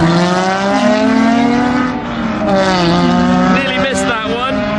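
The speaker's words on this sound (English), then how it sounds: "Now, we've got the 300 SL race car. Let's listen to that." Mercedes 300 SL race car and Audi R8 Spider in a drag race, engines roaring loud and close with rising revs and gear-change pitch steps, one car passing near the end.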